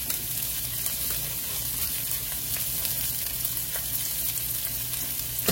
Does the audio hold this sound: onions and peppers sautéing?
yes